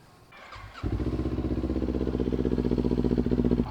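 A Kawasaki Ninja 400 motorcycle engine warming up, starting with a quick catch and then settling into a steady, close, even idle with a rhythmic pulsing throb and no talking.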